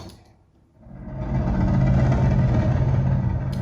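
Clone Wars gunship engine effect made from a buzzsaw pitched far down with an oscillating filter, swelling from near silence into a steady, loud, rumbling drone that holds to the end.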